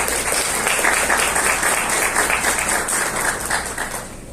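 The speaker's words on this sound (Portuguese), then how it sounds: "Por favor, uma salva de palmas para os nossos palestrantes." Audience applause for lecture speakers at an electrical engineering week event at UFRJ, a dense, steady burst of many hands clapping that fades slightly toward the end.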